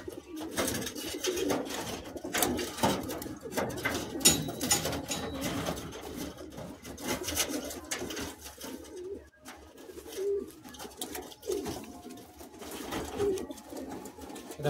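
Pigeons at a pigeon sale in Kolkata, including Andhra and Madrasi high-flying birds, coo steadily and close together in a dense, continuous chorus with no talk over it.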